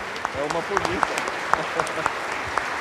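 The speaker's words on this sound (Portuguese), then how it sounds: "vamos dar uma grande salva de palmas ao nosso bispo" A church congregation claps for the bishop during a confirmation Mass at Igreja Matriz Santo Huberto, a dense crackle of many hands with sharper single claps, heard under someone speaking.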